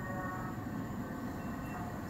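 London Overground train at Kew Gardens station, a steady loud low rumble of the train running close by with a faint high whine above, continuous throughout and without talk.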